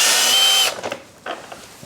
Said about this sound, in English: So I've changed my torque bit inside my drill to a T25. I'm undoing this one just here.